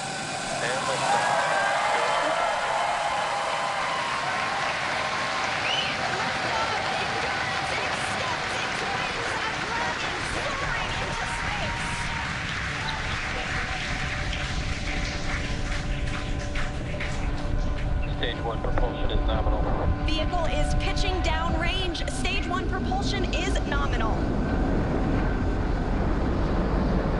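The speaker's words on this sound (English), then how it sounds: "ignition, engines full power, and liftoff." A SpaceX Falcon 9 rocket lifts off from Kennedy Space Center on the Crew-5 mission, engines at full power producing a sustained, loud roar and crackle that swells steadily, with announcer commentary heard over it.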